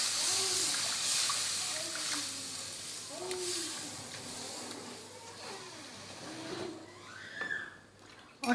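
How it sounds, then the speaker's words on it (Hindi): Chicken stock (yakhni) is poured bit by bit into roasted flour in a pan and stirred, giving a continuous hissing sizzle and watery bubbling with scraping clatter, and a voice sounds faintly underneath. "ये यखनी थोड़ी थोड़ी करके इसमें ऐड करेंगे"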